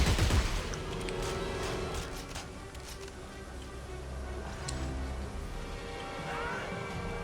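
Gunfire in the sci-fi horror shooter Dead Space 3 crackles in a dense, steady barrage under game music and rumbling ambience, one louder burst opening the stretch.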